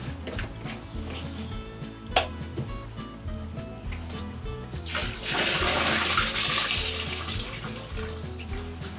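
Water gushes from a flush of an RV waste tank at a campsite hookup in England, starting as scattered splashes and building into a loud, steady rush for several seconds.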